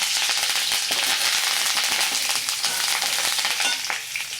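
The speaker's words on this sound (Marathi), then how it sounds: "शेंगदाणे छान लाल तळून घ्यायचे" Peanuts fry in hot oil in a pan with a loud, dense, continuous sizzle and crackle close up, easing slightly at the end.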